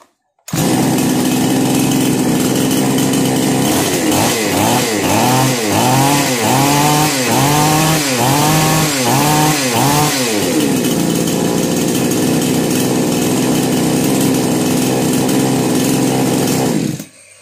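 Petrol chainsaw, a wood-cutting machine just repaired after a starting problem, fires up and runs loud and steady for about sixteen seconds, with a burst of revving pulses early on before settling into a continuous high-pitched drone.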